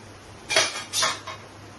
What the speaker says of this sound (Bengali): আমি ঢাকাটা এভাবে তুলে নিলাম, দেখুন